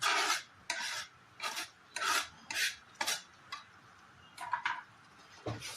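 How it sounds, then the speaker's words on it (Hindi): Chopped tomato stirred into a duck curry in a pot, a spoon scraping through it in about a dozen distinct rasping strokes with short gaps between them. The strokes are close and fairly loud, with no talking. "अब ये काटा हुआ टमाटर मिक्स करना है इसमें"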